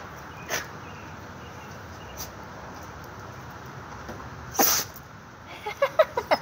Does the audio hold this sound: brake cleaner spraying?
no